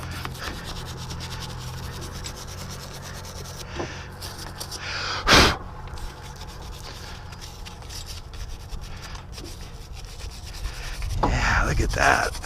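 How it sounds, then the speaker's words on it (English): Surface rust is scrubbed off a Tahoe wheel hub with close, gritty rubbing strokes in irregular bursts, broken by a sharp scrape midway and heavier scouring near the end. "Just get a little of this surface rust off of there."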